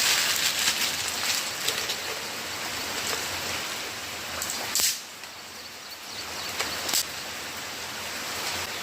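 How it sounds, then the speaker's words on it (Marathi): Heavy monsoon rain pours down over a village, a steady dense hiss that stays loud and continuous throughout with a few brief sharper bursts, and no voices. "पावसाचा जोर तर चांगलाच वाढलेला आहे."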